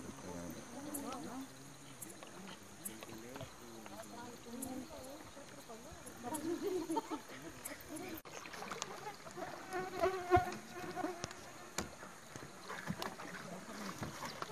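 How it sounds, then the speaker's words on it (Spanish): Mosquitoes buzz faintly around a wetland boat with its motor off, thin whining tones drifting over quiet background noise and occasional soft knocks. "Mirá los mosquitos."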